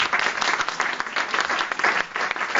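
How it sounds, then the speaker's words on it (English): An audience at a live awards celebration applauds, a continuous dense patter of many hands clapping at moderate volume throughout. "we can give them a clap"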